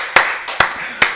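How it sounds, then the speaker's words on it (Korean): Church congregation applauding during a Korean Wednesday worship service, a few sharp rhythmic claps in unison about half a second apart, loud and close. "우리 박수로 하나님께 영광 드리겠습니다"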